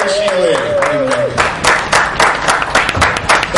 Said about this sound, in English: Clap for Jerry Sheeley.